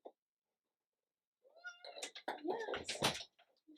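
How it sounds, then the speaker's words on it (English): A small house cat named Zoe Bear meows near the microphone, its harmonic calls overlapping with a voice talking to it. "here's another little cat."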